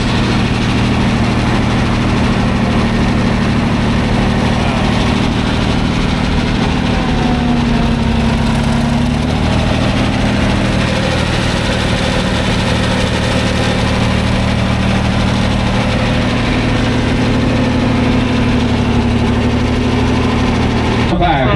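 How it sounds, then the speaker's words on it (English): Gasoline John Deere crawler dozer engine running at an auction yard, a steady loud idling drone with a deep rumble that stays constant throughout the long stretch. "It's funny that of all the John Deere crawlers here, the Gasser is the one that runs."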